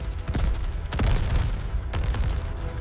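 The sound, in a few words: gunfire and shells in a forest, WWII battle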